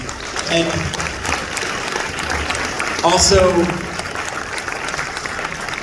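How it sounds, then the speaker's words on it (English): Audience applause fills a comedy and mentalist show at a singles conference, steady clapping throughout with a brief louder swell midway and a voice speaking over it. "give those gentlemen a big round of applause"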